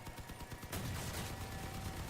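Gunfire erupts in the vehicle combat video game Crossout: quick rapid shots rattle first, then a heavier burst blooms into a sustained loud barrage of overlapping fire and rumble.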